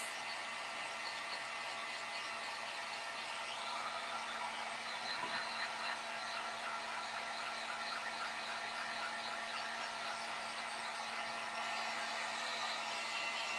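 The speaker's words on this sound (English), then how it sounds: "So I'm hoping me using the heat gun" Heat gun blowing hot air over wooden candy corn during a crafting job, a steady broadband whoosh with a constant motor drone that runs unbroken throughout, close and fairly loud, with no voices.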